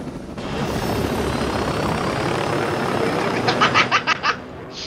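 A helicopter in the video game Ghost Recon Breakpoint gives a loud, steady rotor and engine roar that fills the whole stretch, with a few short bursts of laughter near the end.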